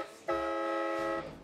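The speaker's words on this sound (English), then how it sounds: "This old lady actually equips with a set of four train horns on it." A loud, sustained multi-tone blast from a set of four train horns fitted to a car sounds once for about a second, rich and brassy, with faint background noise before and after.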